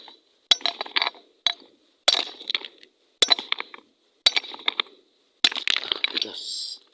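Rock resembling a meteorite being struck and broken apart, giving five separate sharp cracking impacts spaced about a second apart, each followed by brief rattling debris, close and fairly loud.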